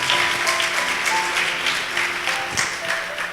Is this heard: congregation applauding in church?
yes